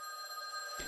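A telephone ringing, heard as a steady electronic tone with several sustained pitched lines that runs through the whole short moment and ends with a brief noisy thump.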